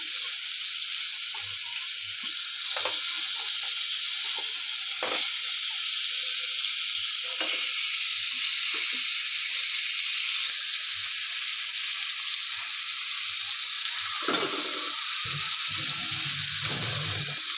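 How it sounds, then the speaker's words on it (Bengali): Crabs fry in hot oil with a loud, continuous sizzling hiss that holds steady throughout, broken by a few soft bumps as pieces are added and moved. "তেল এখন গরম হয়ে গেছে। এখন আমি কাঁকড়াগুলো দিয়ে দেব।"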